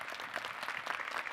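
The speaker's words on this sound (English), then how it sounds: "Let's give him a round of applause." Audience applauds a school board trustee at a school district community event, with steady, dense clapping throughout, fairly close and full.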